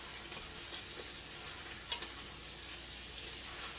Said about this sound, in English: You stir your kale.